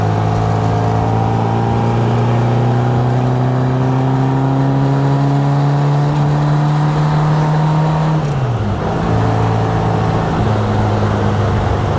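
A restored 1960 Bugeye Sprite with a 5-speed conversion loafs along in fifth gear at around 2,000 rpm, its engine droning steadily and loud from inside the car, with a brief dip in pitch near the end before settling again.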